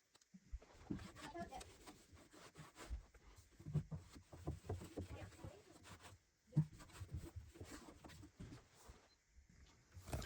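Damp rag with cleaner scrubbed over pool table felt, rails and pockets, giving irregular rubbing and wiping strokes with soft knocks, close by and moderately loud throughout.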